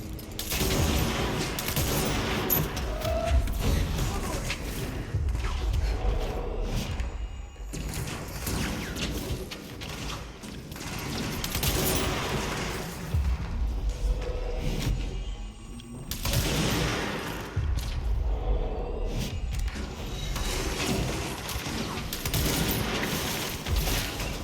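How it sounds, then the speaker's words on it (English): Sustained gunfire and chaotic combat in the video game Control during the warehouse ritual, with dense bursts, crashes and booms that keep up loudly and heavily before briefly dropping out and surging back. "Shooting my own fucking enemies"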